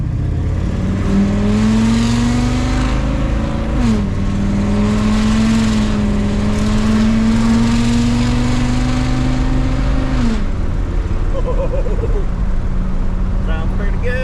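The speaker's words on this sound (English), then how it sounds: "we're going to take it for a little test drive and see if it sounds any different" A Ford F250 Super Duty truck engine drones steadily through a test drive, heard from inside the cab, its pitch rising and dipping as it speeds up and eases off over a constant road rumble.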